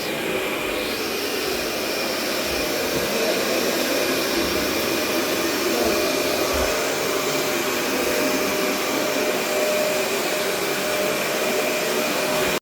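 A Henry vacuum cleaner hoovering in a house at night, a loud steady motor whine with a constant tonal hum that runs unbroken from start to end, with no talk over it.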